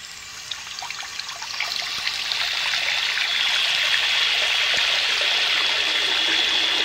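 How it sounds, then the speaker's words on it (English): Tap water running steadily, splashing and trickling into a container for a dunk test of an Xpert WR-4401 waterproof servo; a continuous hiss that builds over the first few seconds and then holds, up close. "Get the tap going."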